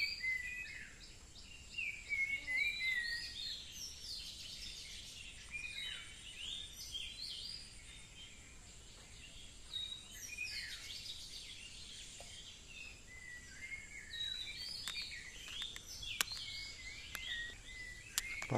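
Bird calling outdoors, a series of faint chirping and warbling phrases coming and going at some distance over quiet background.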